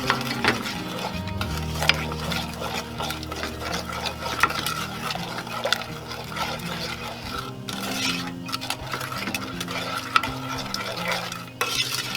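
A spoon scrapes and stirs steadily through thick chocolate fudge mixture in a pot, with a soft bubbling sizzle underneath and no talking.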